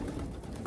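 A racing pigeon gives a brief, soft, low coo close by, set against a muffled background.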